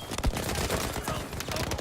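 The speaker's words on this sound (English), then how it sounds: "That's an MG42 that's prone there with the bipod." Heavy automatic gunfire from an MG42 machine gun in Battlefield V, rapid overlapping bursts loud and close amid battle noise, no speech.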